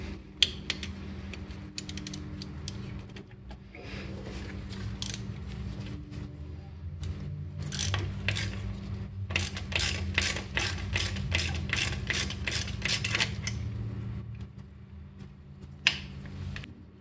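A ratchet with a 13 mm socket turns a brake bolt on a car with six-piston Brembo calipers, giving quick repeated clicking runs close up, with pauses between strokes over a low background hum.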